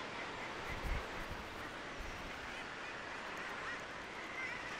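A dense guillemot seabird colony calls continuously, a steady wash of overlapping growling cries with a few louder bursts near the start, rising from the cliffs amid wind.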